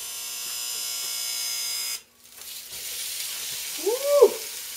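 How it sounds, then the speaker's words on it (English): Ground beef drops into a hot pan and sizzles steadily, a loud crackling hiss that surges after a brief pause, with a short squeak near the end. "Listen to that beef sizzle."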